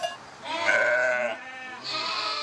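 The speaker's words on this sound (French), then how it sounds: "La transhumance de ses 500 brebis aura lieu début juin." A flock of ewes, part of a herd of 500 in the Diois, bleats loudly and close by, with overlapping drawn-out wavering calls and no talking.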